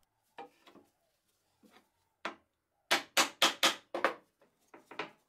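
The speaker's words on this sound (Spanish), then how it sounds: "Y con unos golpes de martillo hago esta marca más profunda." A hammer strikes a center punch into wood in scattered sharp taps, then a quick run of five firmer blows followed by a few lighter ones, close in a quiet room.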